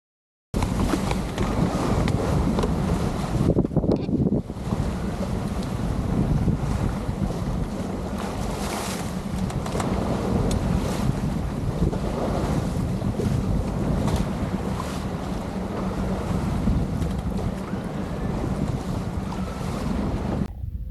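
Wind gusting hard across the open sea aboard a sailboat: a loud, steady roar of buffeting wind and microphone rumble, with the wash of waves under it throughout and no voices.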